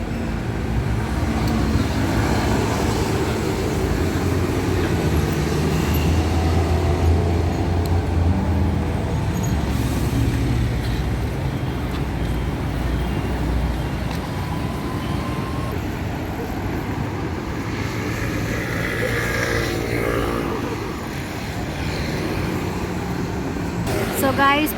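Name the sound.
street traffic, vehicles passing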